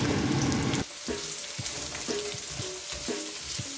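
Garlic and onion hit hot oil in a pan for pancit with a loud initial sizzle, then a steady crackling fry punctuated by several scraping stirs of a utensil, close and clear.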